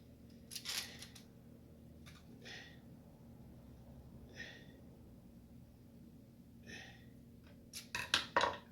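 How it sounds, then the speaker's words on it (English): Kitchen scissors cut through bacon wrapped around a meat loaf in a pan, giving a few faint, spaced-out snips and then a quick cluster of sharper cuts at the end. "We got our scissors and we're gonna cut it."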